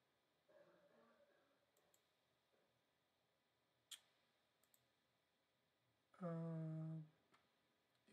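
A computer mouse clicks to place an order during an online checkout, with a few faint, sparse ticks in an otherwise quiet room before a brief tonal chime.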